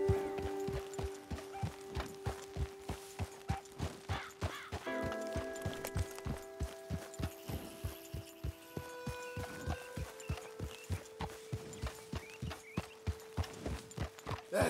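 Steady, rhythmic horse hoofbeats from Red Dead Redemption 2 clip-clop at a walking pace throughout, crisp and close, with a few tonal game sounds layered over them.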